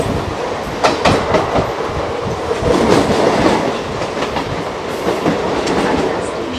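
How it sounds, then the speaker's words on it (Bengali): A Mumbai local train runs steadily toward Churchgate, with a continuous loud rumble of wheels and carriage clatter, rhythmic clicks over rail joints and brief metallic squeals, and no talk. "উঠে পড়েছি লোকাল ট্রেনে"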